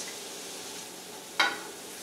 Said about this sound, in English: I'm going to add my onions and then my garlic, and we're going to saute this for just a few minutes